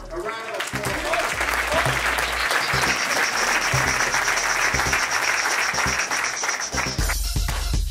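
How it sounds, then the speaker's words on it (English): Loud, sustained audience applause fills the room for several seconds, with cheering mixed in and a few bass thumps beneath before it cuts off near the end. "Let's give Brandon Carter a round of applause."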